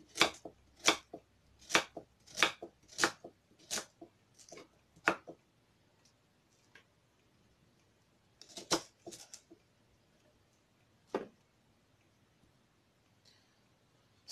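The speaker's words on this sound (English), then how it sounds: "So I'm going to slice my carrot as well, chop it into pieces so that it will be easy to blend." A knife chops carrots and leeks on a cutting board in crisp, close, evenly spaced strokes, a quick run of about nine cuts, then a pause and a few scattered chops.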